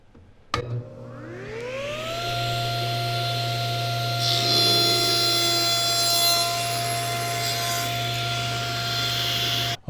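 A table saw spins up to speed with a rising whine, then settles into a steady hum as the blade cuts through wood, rasping and grinding for several seconds.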